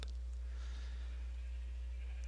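Sheep bleat in a blocky sandbox game, a short bleat heard faintly over a steady low hum that runs through the whole stretch.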